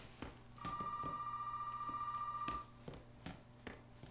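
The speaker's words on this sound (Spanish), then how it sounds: "Suena un teléfono." A single long telephone ring in the video game Resident Evil 7: Biohazard buzzes for about two seconds over faint background noise and scattered clicks, fairly quiet.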